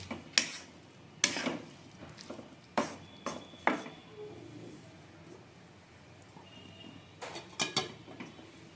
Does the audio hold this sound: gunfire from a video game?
no